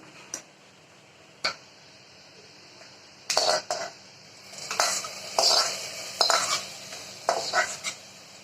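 Fried coconut pieces are poured into bamboo rice payasam and stirred, giving a few sharp isolated clicks followed by repeated bursts of wet stirring and scraping against the pot, close and moderately loud.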